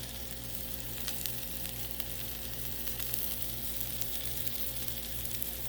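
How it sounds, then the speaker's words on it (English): Bacon sizzles on a Blackstone griddle, a dense, steady frying hiss with faint crackles throughout and no voices. "You know what's missing? Bacon. Ooh, hot bacon."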